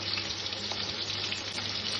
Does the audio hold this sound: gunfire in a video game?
no